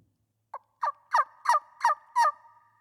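A cane turkey call with carbon fiber arrows inside lets out a short rising series of five or six sharp, loud yelps, evenly spaced, each note ringing clear with no other sound around it.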